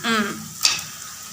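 Marinated chicken coated in spices and yogurt sautéing in a pan gives a short burst of sizzling hiss with one stirring clatter, after a brief voice at the start.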